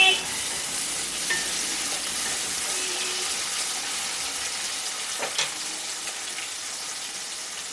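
Chopped tomatoes fry with onion in a pan for Bengali mutton kosha, giving a steady hiss and sizzle close up, broken by a few stirring scrapes and clinks of the spatula.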